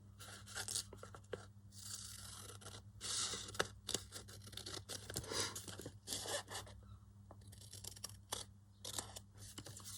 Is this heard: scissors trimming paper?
yes